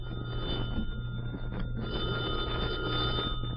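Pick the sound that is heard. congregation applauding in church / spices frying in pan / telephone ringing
telephone ringing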